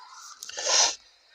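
A single sharp sneeze, close and fairly loud, preceded by a brief sniffing intake of breath, then quiet.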